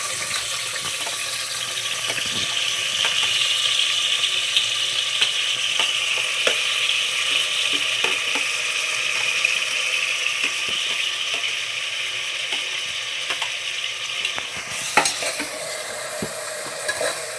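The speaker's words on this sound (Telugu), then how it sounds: "ఆయిల్ మరిగిపోయింది కనుక చూడండి, పచ్చిమిర్చి ఉల్లిపాయ అయితే వేసేసుకోవాలి" Green chillies and onions fry in hot oil for mutton biryani, a loud, steady close sizzle with faint crackles and occasional stirring clinks throughout.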